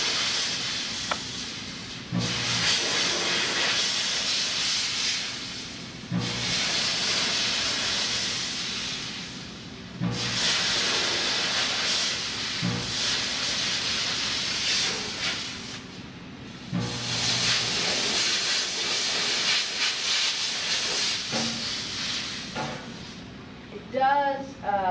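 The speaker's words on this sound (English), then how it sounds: "the difference between getting that extra burst of steam and getting that clean down in there" A steam cleaner blasts steam into the crevices and blades of a surgical sternal spreader, producing loud, harsh hissing bursts several seconds long with short gaps between them and brief talk in a pause.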